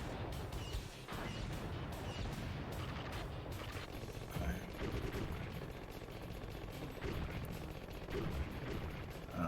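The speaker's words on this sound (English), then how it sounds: "using the homing missiles" Continuous rapid weapon fire and explosions from homing missiles in a Contra video game, a dense, steady barrage that never lets up.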